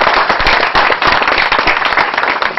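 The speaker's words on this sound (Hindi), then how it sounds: "एक बार जोरदार हाथ ताली, क्योंकि मेहनत बहुत की।" Loud, dense applause from an audience at a theatre play, many hands clapping steadily and continuously with sharp overlapping claps throughout.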